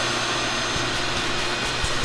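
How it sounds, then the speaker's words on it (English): A standard shop vac runs with a loud, steady roaring whoosh, close by and unbroken, with no talk over it. "This is our normal shop vac."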